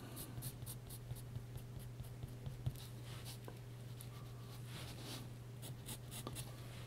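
Pencil tapping sequences of dots onto paper, a quiet close series of soft irregular ticks over a low steady hum.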